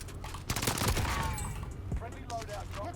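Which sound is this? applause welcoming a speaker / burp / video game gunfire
video game gunfire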